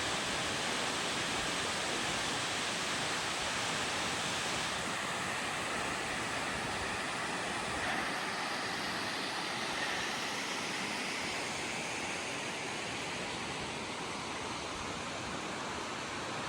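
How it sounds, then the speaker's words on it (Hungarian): A High Tatras waterfall rushes up close, a continuous loud wash of falling water that stays even and unbroken for the whole stretch, with no voices. "Ott csobog közelről."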